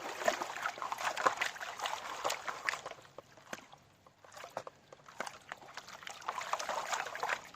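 Clay-heavy gold-panning material is swirled and mixed by hand in water in a pan, giving close, soft sloshing and trickling with gritty rustles, easing briefly midway before resuming.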